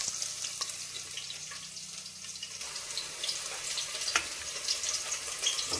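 Chopped onion dropped into hot oil for a tempering in a pot while cooking village-style mutton sambar, giving a steady, fairly close sizzling crackle with small pops and no voices.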